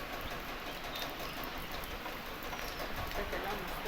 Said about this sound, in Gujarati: અને વરસાદ તો થોડો રાતનો ચાલુ થઈ ગયો હો.